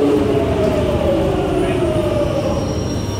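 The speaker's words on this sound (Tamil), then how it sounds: "பாருங்கள் ட்ரெயின் வரும்போது மறுபடியும் உங்களுக்கு" A London train pulls into a station platform with a steady loud rumble of wheels and carriages, thin squealing tones riding above the roar, no talk over it.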